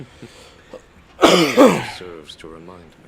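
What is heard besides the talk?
cough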